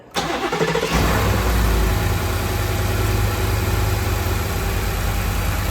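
Ford F-150 5.0L V8 cranks and fires after an alternator replacement, then settles into a steady, loud, even idle that runs alone for several seconds.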